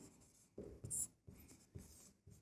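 Handwriting on paper or a board while working through a linear equation for a class 10 math lesson: several short bursts of pen strokes with brief pauses between them, close and fairly quiet, with no voice.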